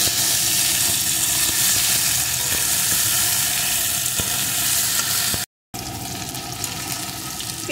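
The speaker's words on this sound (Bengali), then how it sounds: "পেঁপেটা এখানে সুন্দর করে আমি ভেজে নিয়েছি।" Papaya pieces frying in hot oil in a pan, giving a steady, dense crackling sizzle throughout, broken by one brief silent gap near the end, with no talking.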